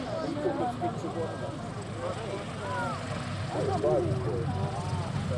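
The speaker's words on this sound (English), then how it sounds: "As the aircraft completes its landing roll, shortly turns around to backtrack down the runway" A vintage R4D transport plane at an air show slows through its landing roll on the runway, its propeller engines droning steadily at moderate distance beneath continuous commentary from a voice.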